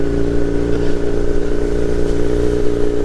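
A Kawasaki Z900 motorcycle ridden two-up on a cold early morning, its engine a steady, loud, close drone with a constant hum and slight clatter running through the whole stretch, with no talk over it.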